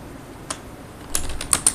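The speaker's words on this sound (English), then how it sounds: "So I'm going to type my name" Keys clatter on a computer keyboard as a name is typed, a few soft isolated taps followed by a short quick burst of keystrokes, close and fairly quiet.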